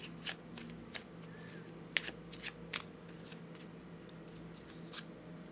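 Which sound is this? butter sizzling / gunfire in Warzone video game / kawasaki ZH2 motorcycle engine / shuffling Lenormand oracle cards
shuffling Lenormand oracle cards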